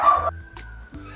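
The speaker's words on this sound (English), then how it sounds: "my dogs are absolute lunatics and don't understand that I'm filming or recording" Dogs give a quick burst of close, loud barks and yips, one sharp bark followed by shorter whimpering yelps within about a second.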